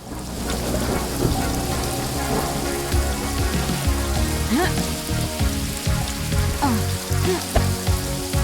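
Steady rainfall in the video game Paradise Killer, a dense continuous patter over a low rumbling bed, heard alone without any talking.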